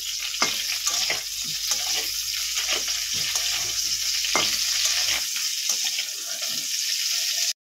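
Whole coriander seeds and cauliflower florets fry in hot oil with a strong, continuous sizzle and crackle, stirred now and then, until the sound cuts off abruptly at the end.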